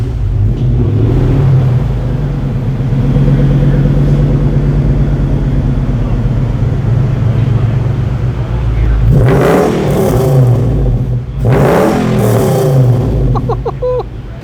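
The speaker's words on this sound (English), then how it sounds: "We did a MagnaFlow exhaust on it, and we did a 2-into-1, so it's like 2 1/4 into the MagnaFlow and then 3-inch out" A V8 car engine with a MagnaFlow exhaust in a 2-into-1 setup, 2 1/4-inch into 3-inch out, idles with a loud steady rumble, then revs hard twice near the end.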